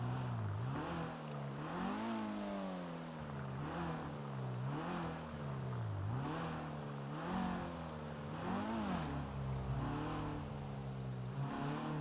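An Audi car driving with its engine revving up and down in repeated cycles, a steady mid-pitched drone that rises and falls every couple of seconds, close and continuous with no talk.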